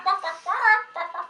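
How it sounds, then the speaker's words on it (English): A hen clucks in a few quick, close bursts with short pauses between them, loud and clear with no other sound around it. "That's a hen."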